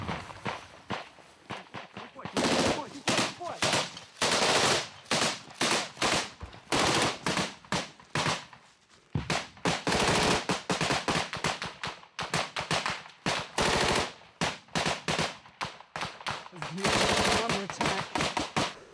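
Close gunfire during combat in a village in Ukraine: loud bursts of automatic fire and single shots crack repeatedly through the whole span, mixed with footsteps and running, while people talk and shout between shots.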